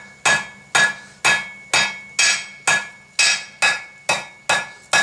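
A hammer forges steel into an S hook, striking about ten times at a steady, even pace. Each blow rings sharply and close, with a short metallic decay before the next.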